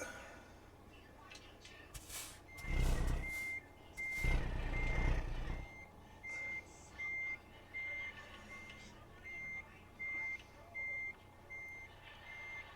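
Reversing beeps from a truck in American Truck Simulator, a steady series of evenly spaced electronic tones repeating after two louder bursts of engine and air noise.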